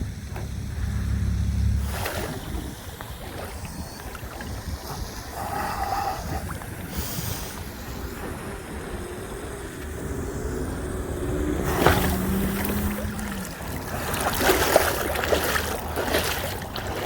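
An Oxidean Marine Dominator RC boat on 8S power with a Dynamite 3674 1900kv motor and Oxiden 200A controller runs on water, a distant motor whine with water wash and rushing wind, rising and fading in several passes.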